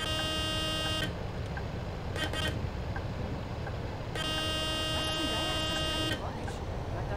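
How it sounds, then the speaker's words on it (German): Two long blasts of a harsh, buzzy bus horn in Bus Simulator 18 over steady engine rumble, with a short tap of the horn in between. "Das ist die Hupe. Ich hupe hier gerade."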